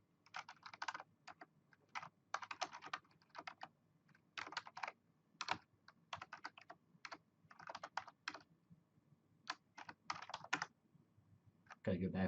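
Computer keyboard typing in quick, irregular bursts of keystrokes with short pauses between runs, close and fairly quiet, while someone enters network device configuration commands.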